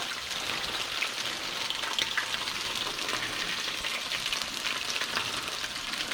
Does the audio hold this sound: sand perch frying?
yes